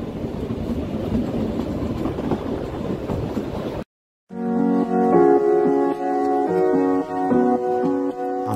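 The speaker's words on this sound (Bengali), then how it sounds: "আমরা আজকে যেই ট্রেনটিতে ট্রাভেল করছি, এটি হচ্ছে ইন্ডিয়ার ফার্স্ট ভিস্টাড্রোম টয়" The Him Darshan Express Vistadome toy train on the Kalka–Shimla line runs with a loud, steady rumble and rattle for about four seconds. Then a brief silence, and music takes over.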